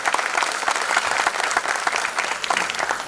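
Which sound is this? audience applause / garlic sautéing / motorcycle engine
audience applause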